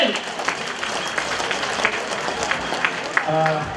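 An audience at a Taishan community fundraising event applauds as the president of a Taishan chamber of commerce takes the stage, with dense, steady clapping filling the room and a voice speaking over it.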